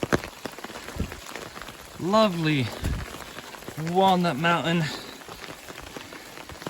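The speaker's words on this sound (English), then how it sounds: "It's definitely raining." Steady rain patters down on a mountain hiking trail on Walnut Mountain along the Appalachian Trail, a continuous wet hiss under a person speaking briefly nearby.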